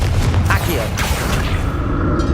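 A Confringo fire spell in Hogwarts Legacy erupts in a loud, booming blast, with rumbling low-end energy and a whooshing crackle that fill the short moment throughout.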